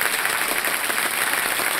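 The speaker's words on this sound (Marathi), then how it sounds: "जरा टाळ्या जोरदार विजेतींसाठी" Dense, steady applause from a crowd at a prize-giving ceremony fills the whole stretch, a continuous wash of many hands clapping at once.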